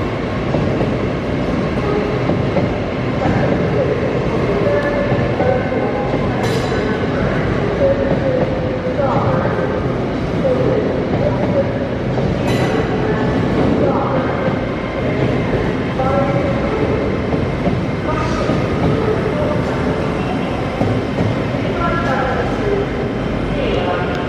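A Class 800 series train at York station rumbles steadily past the platform, with a continuous low roar and periodic sharp metallic clicks and squeals from the wheels, while a voice speaks over it.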